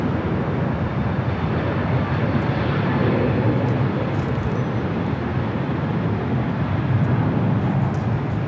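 A Korean Air Boeing 747 taxis at LAX, its jet engines giving a steady, loud, broad roar that holds without letup from start to finish.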